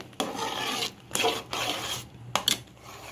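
Grated carrot halwa cooked with milk, stirred and scraped in a pan: several close scraping strokes with short pauses between them, a rhythmic rubbing sound with no voices over it.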